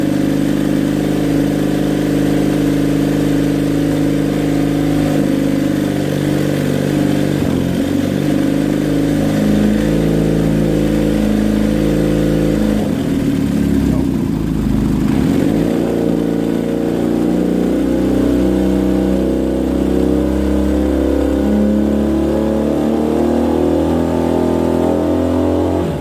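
Kawasaki KZ400 motorcycle engine on a tracker build, steadily revving from idle up to about 6,000 RPM, loud and close, with a brief dip mid-run before climbing again and settling into a sustained high rev.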